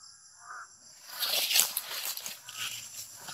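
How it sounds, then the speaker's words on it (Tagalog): Several crows caw repeatedly overhead at a moderate distance, their harsh calls overlapping against faint outdoor rustling. "Grabe talaga itong mga ibon na ito. Umiikot sa atin."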